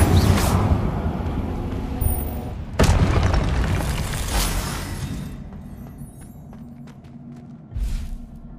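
A Confringo blasting spell exploding in a Harry Potter video game, a loud boom with thuds and crackling debris, followed by another blast that fades to quieter game ambience.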